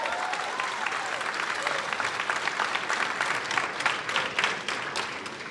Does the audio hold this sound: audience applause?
yes